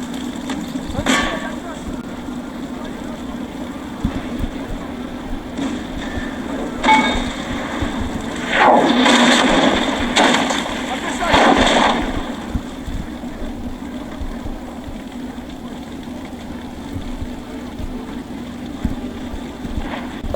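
Cannon fire during a siege in a Crusader Kings Total War hybrid battle: a few broad, rumbling blasts spaced seconds apart over a steady low battlefield drone, with two heavier booms close together near the middle.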